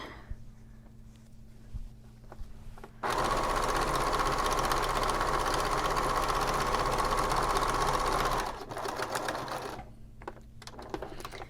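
A sewing machine runs steadily for about five seconds, stitching the inside pocket of a braided boho bag, with quiet room tone before and after.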